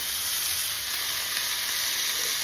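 Chicken shawarma pieces browning in a well-seasoned skillet give off a loud, even sizzle and crackle that runs unbroken and alone, with no voices.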